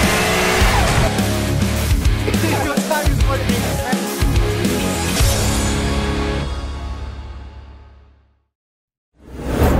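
A Mazda RX7 in Japan driven hard through a corner, its engine roaring loud and close with tire squeal and rising revs before cutting to silence, then a sudden burst at the end.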